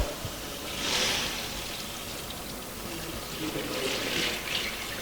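Cold water pours into a stock pot holding leeks, celery, bay leaf and peppercorns, a soft steady splashing and trickling that swells twice at moderate level.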